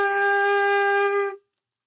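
A flute sounds a single sustained low G with all left-hand fingers and the thumb down, a steady clear tone held alone for over a second before stopping cleanly into silence.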